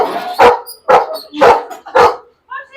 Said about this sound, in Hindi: नहीं भौंकते